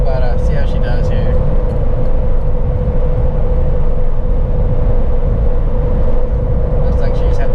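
A 2014 Jeep Wrangler climbing a grade on a rough road, loud steady engine drone with a sustained whine and road noise heard from inside, a voice talking over it.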